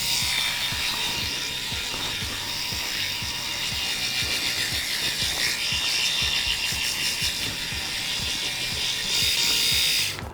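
A Groomie BaldiePro electric head shaver buzzes steadily, close and continuous, as it is worked around the ear, with a rattly mechanical whir and a slight rise in level near the end.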